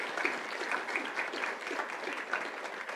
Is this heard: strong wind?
no